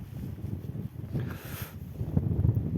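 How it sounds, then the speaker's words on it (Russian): Gusty northern wind roars low and close across the microphone at a fishing spot in Yakutsk, swelling in the middle with a brief hissing surge. "Ох, ветер какой. На улице ветер такой северный."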